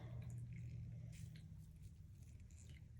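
A wet sponge squishes and drips softly as it is soaked and squeezed, quiet and close, with a low steady hum underneath and no talking.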